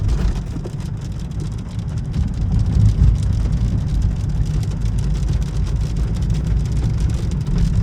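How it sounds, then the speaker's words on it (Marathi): Rain falls on a car while sitting inside it, a dense steady patter and low rumble on the body and roof, continuous and fairly loud with no talking. "स्टील पाऊस पडतोय अजून."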